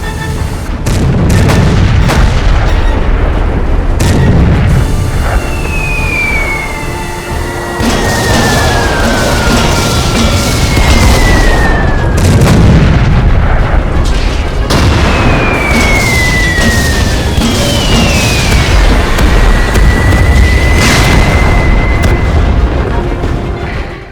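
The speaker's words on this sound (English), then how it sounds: "Artillery, fire on the smokescreen." Artillery fire on a smokescreen in an animated tank cartoon: repeated loud booms and rumbling blasts roll through the whole stretch, with descending whistling shells arcing between impacts and no talk.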